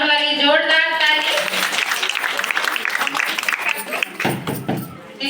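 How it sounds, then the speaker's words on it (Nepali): Audience at a church ladies' fellowship gathering breaking into loud applause, a dense burst of clapping that follows the tail of a voice and fades briefly near the end. "उहाँको सम्मानको लागि जोरदार ताली"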